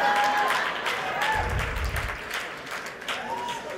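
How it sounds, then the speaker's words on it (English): Audience applause at a live event with comedian Jason Alexander and President Shimon Peres in Los Angeles, a steady wash of clapping from a crowd, fairly loud and continuous, with a brief low rumble midway and some voices mixed in. "Thank you very much for your applause."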